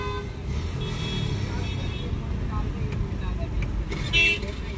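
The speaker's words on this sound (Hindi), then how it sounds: "बहुत ज़्यादा ट्रैफिक आज।" Dense road traffic in heavy congestion drones around a car, with several horn toots and a louder honk near the end, while people talk over it.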